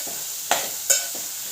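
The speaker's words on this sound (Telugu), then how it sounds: "ఈ కడిగిన పెసరపప్పు కూడా వేసేసి దీన్ని కూడా ఫ్రై చేయాలి కాస్త ఆయిల్" Washed moong dal sizzles softly in hot oil with ginger and turmeric. Two sharp stirring clinks from a spoon against the pan stand out over the steady low frying hiss.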